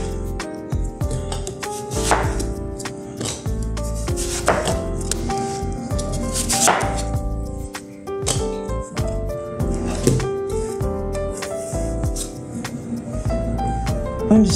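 A knife peels and slices through a honeydew or cantaloupe melon on a kitchen board, with steady crisp cutting strokes and scraping repeated close up.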